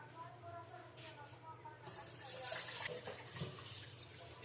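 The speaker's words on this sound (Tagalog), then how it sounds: "Hugasan muna natin yung bigas." Running water rinses rice in a kitchen before cooking, a steady splashing gush close by, with a person speaking over it.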